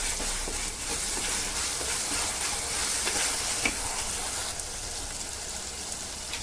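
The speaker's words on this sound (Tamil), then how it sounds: "இப்போ இஞ்சி பூண்டு பேஸ்ட் அதையும் போட்டு நல்லா வதக்கும்." Tomatoes and ginger garlic paste sauté in a hot pan, giving a dense, continuous close sizzle with occasional soft stirring clicks and no voices.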